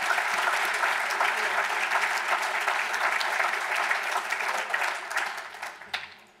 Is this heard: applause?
yes